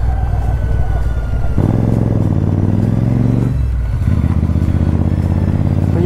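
A motorcycle ridden on a narrow two-way mountain road in Spiti thrums loudly up close, its engine pitch shifting through gear changes and revs with some rattling clatter, no talk over it.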